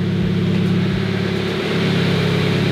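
A car engine revs steadily at high pitch while its transmission is stuck in third gear, giving a loud, continuous drone with slight rises in tone and a few low thumps.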